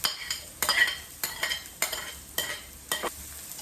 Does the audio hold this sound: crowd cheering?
no